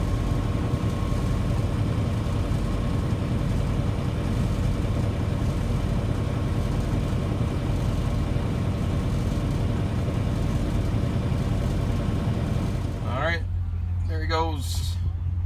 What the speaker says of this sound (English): that tractor looks pretty darn good right there.